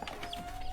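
Chickens cluck softly in a village household, a few short clucks close by over a steady background hum, with no talking.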